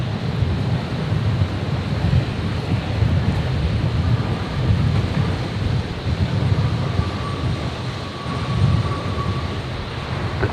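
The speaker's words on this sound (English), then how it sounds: "That wind really picking up." Gusty wind roaring across the open apron at Brisbane Airport, a steady broadband rush with low buffeting swells, continuous and loud throughout with no talk.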